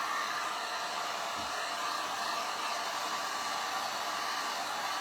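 Hair dryer blowing steadily on a wet Santa tray, a constant loud, airy whoosh that runs without a break from start to finish.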